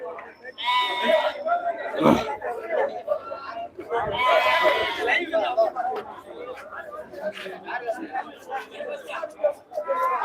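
Sheep bleat at a busy Saturday goat market in Ettayapuram, a few loud, near cries standing out over constant crowd chatter and bargaining voices.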